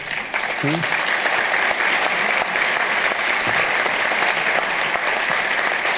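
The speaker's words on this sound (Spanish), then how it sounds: "ese espontáneo aplauso se lo merece todo, mi querido doctor Namén" A congress audience breaks into spontaneous applause for the vice president, a loud, dense, continuous clatter of many hands filling the hall for several seconds, with a brief voice heard near the start.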